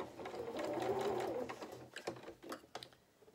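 A sewing machine stitches fabric pieces for a Highland cow head, running steadily for over a second with the presser foot down, then slowing into short bursts and brief stops as the fabric is repositioned, close and moderately quiet.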